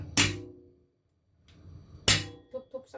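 Ginger smashed with a knife or cleaver for a chicken wing dish: two hard, close thwacks about two seconds apart, followed by a few lighter taps and rustles.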